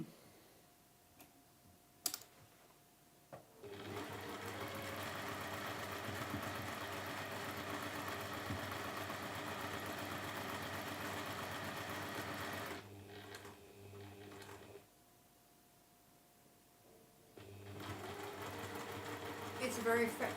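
A sewing machine runs steadily for about nine seconds stitching a quilt block seam for a schoolhouse tile quilt, pauses briefly, then resumes, with a few clicks at the start and quiet talk around it.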